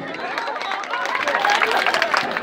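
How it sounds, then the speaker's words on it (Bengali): A stage audience claps loudly for a couple, a dense, steady wash of applause that swells slightly toward the end. "এদের জন্য একটা জোরে করো তালি"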